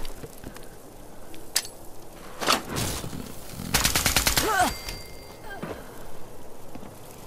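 A Mr. Freeze cold gun in a video game fires in short bursts and one long rapid stream, loud crackling blasts standing out over a quieter background.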